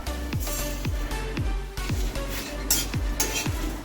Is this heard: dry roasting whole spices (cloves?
yes